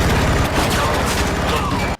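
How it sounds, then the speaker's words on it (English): Dense, rapid bursts of gunfire overlapping in a chaotic film firefight across a warehouse, loud and continuous, cutting off abruptly at the end. "a chaotic firefight erupts across the warehouse"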